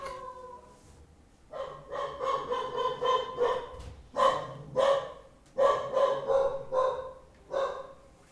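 A dog barks repeatedly in a quick run of sharp, fairly loud yelps and barks. The barks come in close bursts with short gaps and no talk over them.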